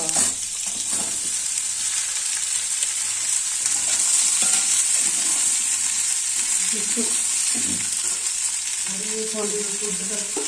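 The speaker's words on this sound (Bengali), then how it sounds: "পেঁপেটা দিয়ে না সঙ্গে সঙ্গে নাড়িয়ে দেবে, নাহলে তলায় ডালটা পুড়ে যাবে" Chopped green papaya with moong dal being stirred and fried in a pan, a steady close sizzle with scraping stirs throughout, a faint voice briefly near the end.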